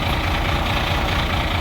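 A truck engine idles steadily with a deep, continuous low rumble and exhaust noise, loud and close, with no talk over it.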